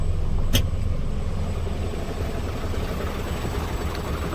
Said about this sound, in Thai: อ้โหฝุ่นท่วมแล้วเหยียบคันเร่งที